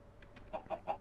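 A chicken in Minecraft gives a few quick soft clucks in a short burst, faint and fairly close, with no talking.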